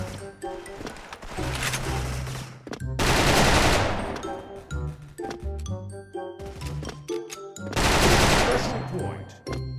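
Bursts of FN FAL rifle fire ring out in the Special Force shooter game, several loud rapid volleys separated by gaps with clinking sounds, while a voice speaks between them.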